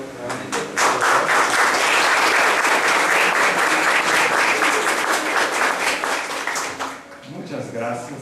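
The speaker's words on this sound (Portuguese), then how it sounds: "Solicito al público un aplauso nuevamente." An audience at an academic lecture gives sustained applause, a dense, steady patter of many hands that tapers near the end as a voice returns.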